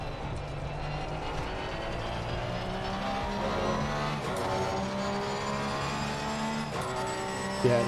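A Porsche race car in a racing video game roars through its gears, the engine note climbing and dropping with shifts, with tire noise beneath the steady, loud drone.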